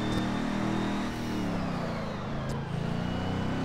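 Car engine in the racing game Test Drive Unlimited 2, a steady mid-pitched drone with slowly shifting tone as the car is gently throttled, heard alone without talk.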